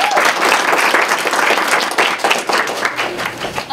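Audience applause at a school cafe night, a dense wash of many hands clapping steadily and loudly for nearly four seconds, close and continuous with slight swells and no pause.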